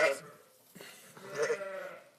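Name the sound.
sheep bleating beside newborn lamb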